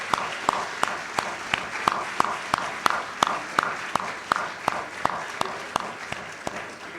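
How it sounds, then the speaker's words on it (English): An audience gives a fairly light round of applause after a chorale ensemble's performance at a college roundtable event, with distinct hand claps in a rhythmic, almost evenly paced pattern throughout. "Let's give them a round of applause."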